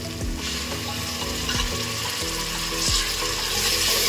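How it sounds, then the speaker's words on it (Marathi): Tomato puree goes into onions frying in oil for Hyderabadi chicken dum biryani, making a steady close sizzle punctuated by a few low, wet bubbling thumps as the mixture cooks. "आता आपण त्याच्यावर टोमॅटो प्युरी घालूया."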